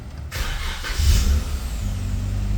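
A Jeep Wrangler JK engine cranks briefly, catches and settles into a steady idle. The sound is close and loud, with no talking.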